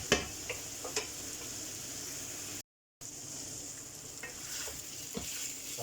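Minced meat and chorizo browning in a pan on high heat, a steady sizzle with occasional stirring clicks, broken by a brief dropout of silence partway through.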